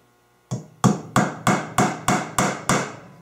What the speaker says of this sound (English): nail on the top bar